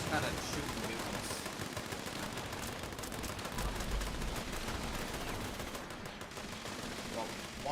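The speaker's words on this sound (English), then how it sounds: "It's just kind of shooting mutants." Steady gunfire while shooting mutants in Fallout 76, a continuous rattle of rapid shots blended with dense combat noise that holds at an even level for several seconds.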